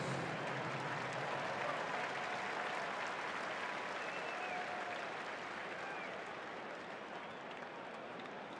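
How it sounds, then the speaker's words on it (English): A stadium crowd at a World Series game between the Dodgers and Blue Jays applauds youth softball athletes, with a dense, even wash of clapping that stays steady throughout and eases slightly toward the end. "Please give these athletes a round of applause as we celebrate their accomplishments."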